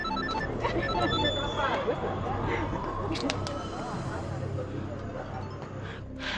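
A mobile phone rings with a short repeating electronic tone for a few seconds, fairly faint under background chatter and room noise.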